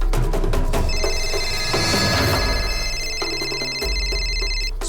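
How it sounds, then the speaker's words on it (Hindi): A telephone rings in repeated electronic trills, loud and close, over a busy background of thuds and ambient noise, with no one speaking. "किसका फोन है?"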